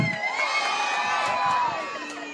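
A crowd at a political rally in a Philippine district shouts and cheers together, with continuous loud cheering and whoops throughout the short burst.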